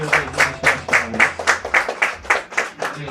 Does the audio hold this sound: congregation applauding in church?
yes